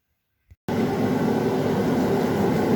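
A Hell's Forge gas forge burns with a loud, steady broadband roar that kicks in abruptly after a short pop and a moment of silence, then holds constant with no talking.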